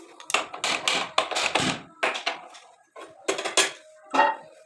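A metal frying pan clatters onto a gas stove while patishapta is being made, a close series of sharp metallic clanks and knocks in irregular bursts with short quiet gaps.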